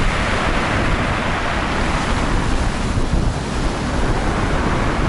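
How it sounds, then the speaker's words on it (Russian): Storm waves crash against the shore in Sochi, a continuous heavy roar of surf mixed with strong wind buffeting the microphone, loud and close without any voices. "Смотрите, какая волна."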